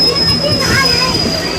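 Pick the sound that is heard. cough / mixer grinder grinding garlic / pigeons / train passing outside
train passing outside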